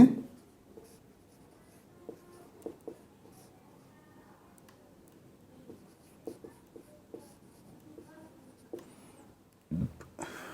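Chalk tapping and scraping across a classroom board as a maths teacher writes out an equation, a series of short, sharp strokes and taps spread through the stretch, closer and louder near the end.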